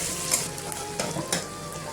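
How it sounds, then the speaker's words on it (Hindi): Onions sizzle steadily in hot oil in a pan, a continuous close frying hiss broken by soft stirring clicks. "ये प्याज भी ऐड कर देंगे। दो मिनट में फ्राई कर लेंगे।"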